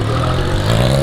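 Big motorcycles at a wheelie Sunday street gathering, a loud close engine roar with a steady low rumble and a slight rising rev, no voices over it.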